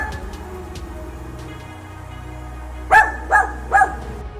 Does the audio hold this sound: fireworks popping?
no